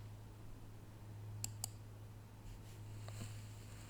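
Two or three faint, sharp clicks from a computer mouse during web browser work, spaced apart over a low steady hum, with no talking.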